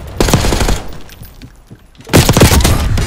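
Automatic gunfire in Black Ops 6 multiplayer on PS5 comes in two loud, rapid bursts with a short, quieter gap between them.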